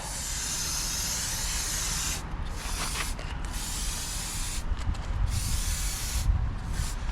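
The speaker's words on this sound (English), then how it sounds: "Then I'm gonna go ahead and just spray that carpet all the way around." Steady aerosol spray hissing onto boat deck carpet, continuous and close, with a few brief pauses in the stream.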